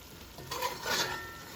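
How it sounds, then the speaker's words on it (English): Chicken sizzles and fries in a pot with soft stirring scrapes, a brief close crackle rising midway and fading out. "I already started steaming up the chicken, so now it's frying."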